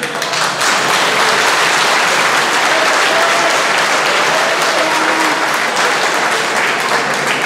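An audience at a mavo diploma ceremony at Hoeksch Lyceum claps loudly and continuously, a thick, steady roar of applause from start to finish.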